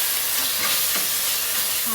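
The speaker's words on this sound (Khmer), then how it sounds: "ឲ្យឆាឡើងដើម្បីឲ្យវាឈ្ងុយ" Palm sugar and fish sauce stir-frying in a pan for a Khmer samlor korko soup make a steady, loud broadband sizzle with occasional stirring scrapes and a faint voice under the hiss.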